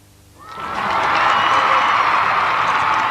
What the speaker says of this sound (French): vous entendez cette foule réunie ici, place du Trocadéro